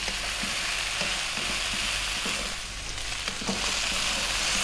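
Chunks of beef and potatoes fry in a pan over high heat, giving a dense, steady sizzle close by with occasional stirring scrapes and no voices.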